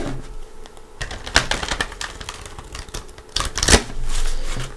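A deck of Good Tarot cards being shuffled by hand, producing bursts of riffling, flicking clicks and rustles in uneven runs, close and fairly loud.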